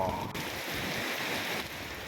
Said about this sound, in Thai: เมื่อฝนมา หัวใจ ก็กลับมาชุ่มฉ่ำอีกครั้ง ทุกหยดฝน ที่โปรยปลายลงมา